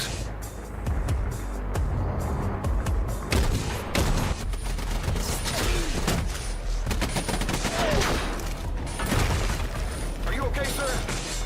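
Dense gunfire and explosions in the strategy video game Dawn of War 2, with continuous loud battle noise, rapid bursts and mechanical clatter, and voices calling out over the fighting.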